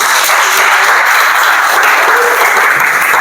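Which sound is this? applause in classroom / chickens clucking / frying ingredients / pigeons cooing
applause in classroom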